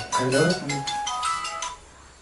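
A phone ringtone plays loudly for an incoming call, a repeating melodic tone filling the short moment, with a voice speaking over it.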